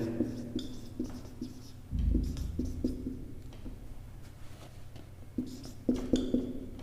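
Chalk or marker writing on a board during a lecture on complex numbers, heard as scattered short scratchy strokes and taps, fairly quiet and close, with low room hum.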